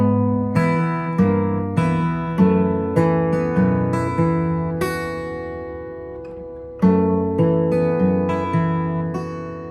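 Fingerstyle acoustic guitar passage, a series of plucked notes and chords ending in a rolled phrase, played close and clear without talking.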